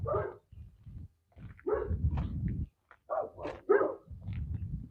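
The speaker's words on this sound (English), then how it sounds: "some stray dogs" Stray dogs bark repeatedly outdoors in a tropical coconut-lined area of Kenya or Ivory Coast, a series of short, fairly close barks and yips in irregular bursts.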